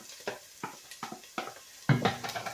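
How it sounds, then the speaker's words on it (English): Chopped garlic and onions go into a pan, giving a run of soft clinks and stirring taps that end in a louder, sustained sizzle of frying close by. "So we've had the onions frying off for about 3 or 4 minutes now."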